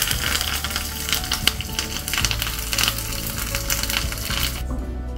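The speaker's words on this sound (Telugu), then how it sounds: "పోపు వేగిపోయిందండి, మనం ఒక రెండు దెబ్బలు కరివేపాకు వేసుకుందాం" Curry leaves crackle and sizzle loudly in hot tempering oil for a Telugu-style roti pachadi made with mixed vegetables, a dense continuous frying hiss with sharp pops and a faint clink, no voices.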